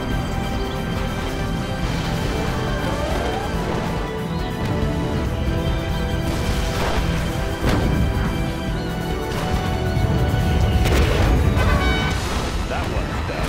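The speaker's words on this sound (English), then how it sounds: "Particle cannon activated." Heavy booming blasts and crashes from a particle cannon in Command & Conquer: Generals fire through a dense, continuous wall of game noise and music, with a strong burst near the end.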